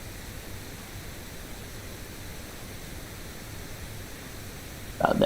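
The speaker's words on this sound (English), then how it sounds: "let's turn that pink noise off" Steady broadband pink noise test signal hisses evenly at moderate level while mixing a hardstyle techno track, cutting off with a brief louder burst at the very end.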